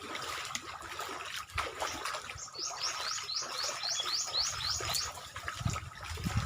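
River water flowing and trickling steadily close by in a rural setting, with a rapid series of bird chirps partway through and occasional small knocks.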